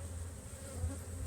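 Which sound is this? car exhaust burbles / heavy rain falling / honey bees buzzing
honey bees buzzing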